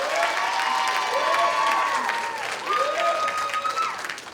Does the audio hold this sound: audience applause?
yes